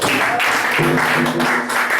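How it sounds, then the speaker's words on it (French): A church congregation breaks into applause in acclamation of the Lord, a steady wash of clapping sustained over a couple of seconds with faint voices mixed in. "Acclamation pour le Seigneur"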